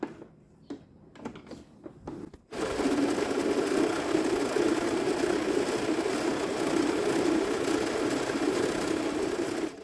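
A sewing machine stitches a seam in a shapewear garment. It starts after a few light handling clicks and then runs as a steady, fast, close whir.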